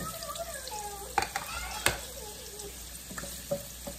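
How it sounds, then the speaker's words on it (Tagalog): Carrots lightly frying in a frying pan for beef caldereta give a soft continuous sizzle, broken by a few sharp clinks and scrapes of stirring. "ipiprito natin ng slightly ang ating carrots dito sa kabilang frying pan"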